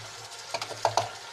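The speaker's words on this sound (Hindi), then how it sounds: "अब हम इसे अच्छे से मिला लेंगे।" A spoon stirs yogurt into eggplant bharta in a pot, several soft scraping and clinking strokes in quick succession, close but quiet against a low background hum.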